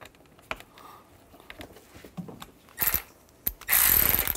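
A ratchet tightens the screws on a 2007-13 Chevy Avalanche driver side door handle, giving close bursts of quick clicking, the last and loudest a sustained run of rapid clicks.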